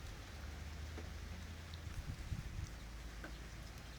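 Light rain falling outdoors near a bypass road, a soft steady patter of drops over a low rumbling background, with a few slightly louder drips standing out.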